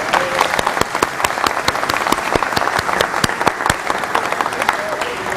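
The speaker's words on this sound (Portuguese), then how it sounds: "Aliás, vou dar salva de palmas para você." A small group claps for a guest during a Brazilian talk on stock market investing, the individual claps sharp and distinct in a lively, uneven rhythm, close and fairly loud throughout.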